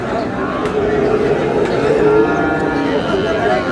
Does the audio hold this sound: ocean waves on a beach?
no